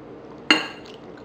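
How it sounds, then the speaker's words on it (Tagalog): Pork, squeezed lemon and soy sauce being combined in a bowl for pork menudo, heard as a single sharp clink of utensil against bowl that quickly fades, with no talk. "I-combine natin yung pork, yung lemon, pipigayin lang natin, at yung soy sauce."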